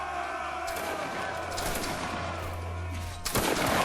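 Musket volley fire in the Waterloo video game, booming gunshots over a dense battlefield din, ending in a loud sharp volley after about three seconds.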